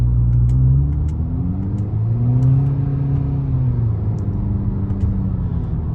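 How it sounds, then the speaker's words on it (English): A Subaru WRX with a CVT transmission and a JB4 tune accelerates on the road. Its engine gives a loud, steady, close rumbling drone, and the pitch rises and dips through quick shifts with no voices. "how much better the car accelerates and feels just driving it normally"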